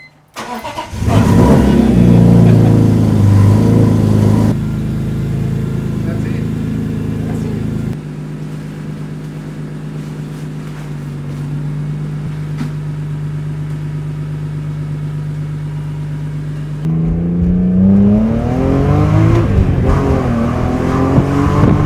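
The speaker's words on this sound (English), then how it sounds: "we went ahead and started the car, warmed everything up, took it for a drive and tested everything out" A BMW E46 M3 with a high-mileage engine and freshly reworked VANOS runs up loud and close, holding a steady idle-like drone in the middle, then revs rising and falling again near the end, with no talking.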